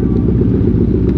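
New Yamaha Jupiter MX 135 motorcycle ridden at night, its engine droning loud and steady from close by, a dense low rumble with no pauses or talk.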